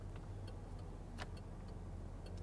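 A 1994 Chevrolet Caprice wagon engine idling steadily, a faint low rumble with a constant hum and light background clicks, no talking.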